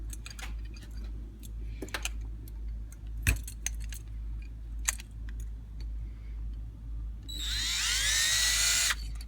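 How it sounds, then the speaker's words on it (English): A power drill whines loudly near the end, grinding screw heads on a vintage Stromberg 97 carburetor, after a stretch of small metallic clinks and taps over a low steady hum. "Just hit them just a few times with the drill"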